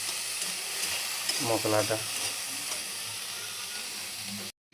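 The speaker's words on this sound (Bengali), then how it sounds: "এবারে ছোলার ডালটা ভেজে নেব, কম তেল দিয়ে ভাজবো।" Chana dal frying in a little oil in a kadai for a niramis kola mochar torkari, a steady close sizzle with stirring scrapes, and a short spoken word partway through before it cuts off.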